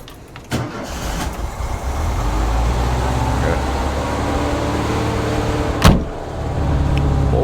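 A VW T25 camper van engine with a stiff throttle cable runs steadily close by as a continuous low rumble, with a sharp knock near the start and another around the six-second mark.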